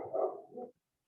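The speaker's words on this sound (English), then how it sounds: "Sorry for the dog barking too." A single short dog bark, close and moderately loud, then silence.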